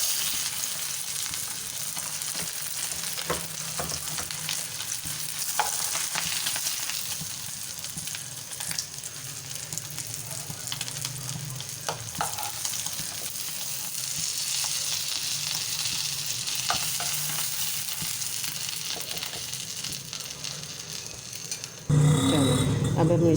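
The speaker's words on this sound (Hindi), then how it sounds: "अब हम इसमें फिर कबाब अपने ऐड करते हैं घी में।" Shami kebabs fry in very hot ghee with a steady, close sizzle that holds through the whole stretch, with a few soft stirring knocks and a louder change near the end.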